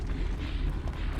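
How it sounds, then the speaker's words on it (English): Bomb blast in the survival horror game The Evil Within, a dense low rumbling boom that fills the short moment with sustained heavy energy, loud and close with no clear individual onsets. "That second pop was the explosion of the person coming through and hitting the bomb."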